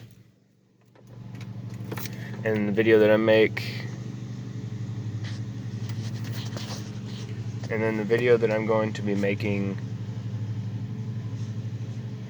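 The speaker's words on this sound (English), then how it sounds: "Now, we're going to start it up and let it sit here and purr. This is with the stock exhaust." A pickup truck with its stock exhaust idles steadily, a low continuous rumble running throughout while someone talks over it in two bursts.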